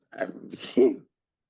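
A single sharp sneeze, quick intake then an abrupt burst, close and clear, followed by silence.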